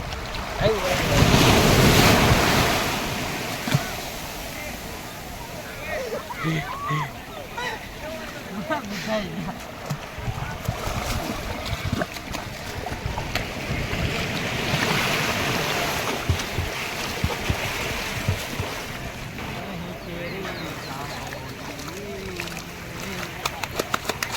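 Sea waves wash onto the shore at Diu under strong gusting wind that buffets the microphone, loud at first and then steady, with voices talking over parts of it.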